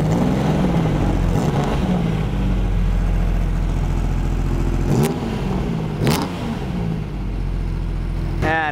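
Engine of a rare Jaguar low drag coupe street car re-creation running loud and close, a steady low rumble punctuated by a few sharp revs and throttle blips.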